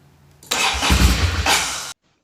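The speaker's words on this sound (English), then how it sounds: "the bike fired for a second and then it just died out" A Ducati Monster motorcycle engine cranks and catches for about a second and a half, firing raggedly and loudly before abruptly cutting out into silence.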